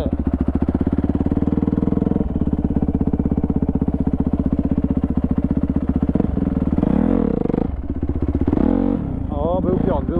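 A Honda CRF dirt bike engine runs hard and loud right up close while being ridden, a steady rasping drone that rises and falls with throttle changes toward the end, with a voice talking over it.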